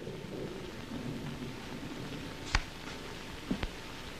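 A thunderstorm in a Bonanza episode brings steady rain under sharp cracks of thunder: one loud crack midway and two smaller ones near the end, with no one speaking.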